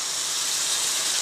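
A splash of water hitting hot spices, including Kashmiri chilli powder, in a pan sets off a loud, continuous steam hiss that holds steady for just over a second.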